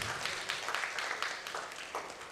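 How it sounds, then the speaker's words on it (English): An audience at a CSR summit and awards event applauds a speaker, a steady, fairly faint patter of many hands clapping from a distance for a couple of seconds. "can we have a huge round of applause for him?"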